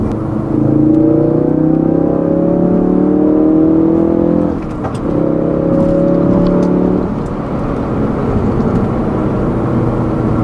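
A 2016 Ford Focus RS engine revs and accelerates loudly and close by, its pitch rising through the gears, with a brief dip and shift around the middle.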